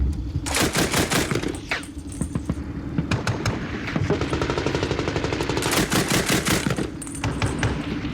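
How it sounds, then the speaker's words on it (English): A grenade machine gun firing in combat during a military operation, rapid bursts of heavy, close, loud shots in long strings, broken by a brief pause before the firing resumes. "So, in support, Mike engaged with the grenade machine"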